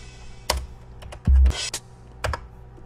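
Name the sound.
computer keyboard key presses triggering drum samples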